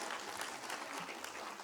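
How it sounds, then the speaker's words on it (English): Applause from an audience at a Model United Nations conference, a steady faint patter of many hands clapping for under two seconds, heard at a distance. "Round of applause."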